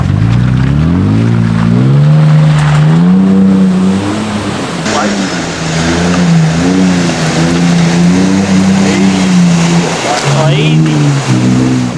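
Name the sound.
Toyota Prado 4WD driving an off-road obstacle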